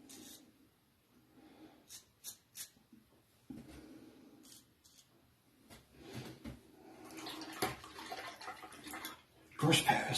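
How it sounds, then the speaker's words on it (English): Water is splashed onto a face over a basin during a wet shave, heard as faint, close splashes and rubbing that build into a louder burst of splashing near the end, with a few quiet clicks earlier. "Get a little bit of water on the face."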